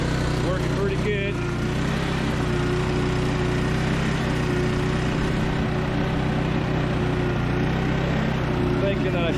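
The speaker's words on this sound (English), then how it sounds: "Motor's running on idle, not high at all." A gold dredge motor idles outdoors by a river in a steady, unbroken low drone, with a rumbling engine tone that holds throughout and stays fairly loud.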